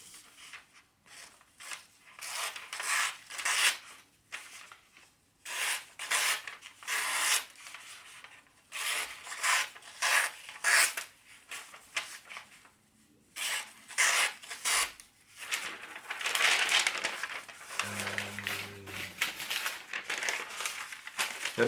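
A Böker P08 Damascus dagger slices through paper in repeated crisp, crinkling cuts, bursts of rustling separated by short pauses at close range.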